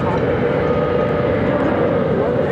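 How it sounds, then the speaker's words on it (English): A Southwest Airlines Boeing 737-700 at Phoenix airport gives a loud, steady engine roar throughout, a dense continuous rumble with a voice talking over it. "That was Southwest Airlines Flight 2317 heading to Ontario,"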